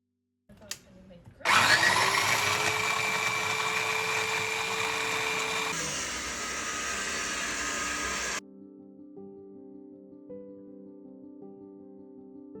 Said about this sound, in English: I am gonna finely chop them in my little tiny food processor